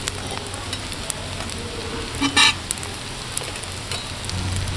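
Egg potato kababs sizzle in hot oil in a wok, a steady crackling hiss throughout with small pops and a brief louder clatter of stirring or lifting near the middle.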